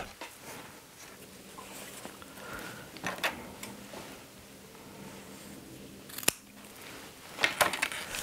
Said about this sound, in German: Den längeren Teil, den mit dem Schieber, schneidet sie ab.